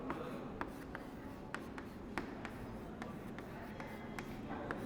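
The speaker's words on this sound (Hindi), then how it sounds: "अब हम बड़ी संख्या लिखेंगे।" Numbers written by hand on paper for a primary school maths lesson, heard as soft scratchy pen strokes with occasional sharper taps over a steady background hiss, fairly close and quiet.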